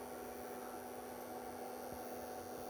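The blower fan of a DC-AC inverter powering a 74-watt LED light runs with a steady, fairly faint whirring hiss and a constant electrical hum, unchanging throughout with no voices.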